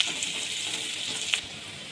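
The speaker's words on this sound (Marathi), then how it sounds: "आता कांद्याला छान परतून घ्यायचं आहे आपल्याला." Finely chopped onion sautés in a hot pan with a continuous close sizzle and hiss. A brief scrape or stir comes about two-thirds through.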